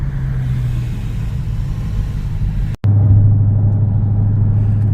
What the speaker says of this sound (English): Oh, the Challenger's just such a comfortable over-the-road car.